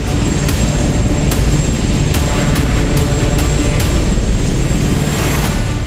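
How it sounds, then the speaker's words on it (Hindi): An Apache attack helicopter of the Indian Air Force flies close by, a loud, steady roar with sharp periodic rotor thumps beating through it. "अपाचे फाइटर हेलीकॉप्टर दुनिया के सबसे आधुनिक और शक्तिशाली अटैक हेलीकॉप्टर में गिना जाता है"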